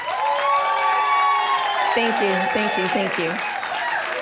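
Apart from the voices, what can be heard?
studio audience round of applause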